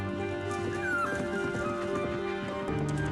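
A dog whimpers and yips amid a television drama's soundtrack, its short whines rising over steady background music and ambience.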